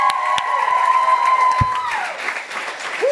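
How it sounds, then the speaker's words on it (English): Audience applause with some cheering at a casual live talk show, a steady broad wash of clapping close up, with a brief voice and a whistle-like tone near the end. "One more round of applause."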